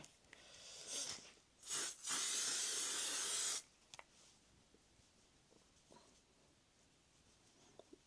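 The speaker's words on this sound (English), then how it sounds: "I want to put some more setting spray" A few short sprays of makeup setting spray followed by a longer, steady hiss of mist, then quiet with faint small taps.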